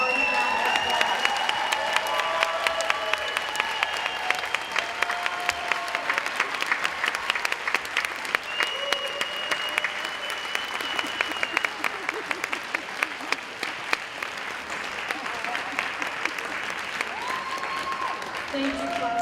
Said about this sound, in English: please give your families and your teachers the standing ovation they deserve with a hearty round of applause